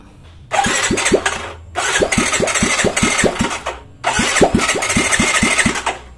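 A Yamaha Mio J scooter, with a newly fitted spark plug, is cranked three times in a row, each a loud, close rhythmic starter churn lasting about two seconds, with brief pauses between tries.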